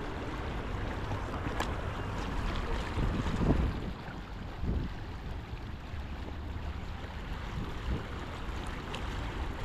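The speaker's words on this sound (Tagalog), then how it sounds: "mahangin sa kabila" Steady wind rushes and buffets close to the microphone, with low rumbling gusts and a faint watery wash underneath; no one speaks.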